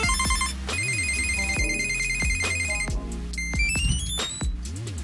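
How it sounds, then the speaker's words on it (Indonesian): Samsung Galaxy Smart Tag ringtones play in turn, a bright repeating electronic melody of beeping tones and rising chimes, loud and close, with no talking over them. "di sini kita sebetulnya bisa pilih mau ringtone-nya seperti apa kalau kita lagi nyari si tag ini nih"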